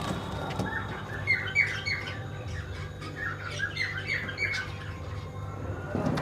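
Black Lakka pigeons in a pet shop give a run of squawking and chirping calls over a steady shop hum, with several overlapping birds calling close by.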